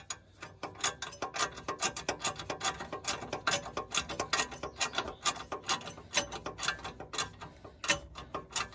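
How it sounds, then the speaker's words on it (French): Pocket ratchet wrench turning a long screw while an exhaust downpipe is fitted to a BMW 530D, giving rapid, close, rhythmic clicking bursts that repeat steadily throughout with no talk. "C'est un cliquet de poche"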